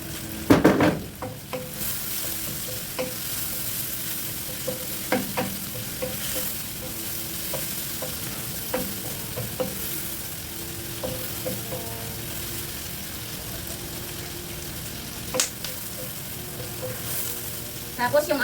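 Chili peppers are stir-fried in a hot pan for a tofu dish, giving a steady close-up sizzle broken by scraping, clattering stirs that keep going the whole time with no talking.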